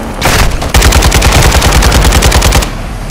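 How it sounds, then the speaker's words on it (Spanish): Light machine gun fire in Call of Duty Modern Warfare II, a loud, sustained run of rapid automatic bursts rattling for about three seconds with a brief gap near the start. "Ametralladora ligera adelante."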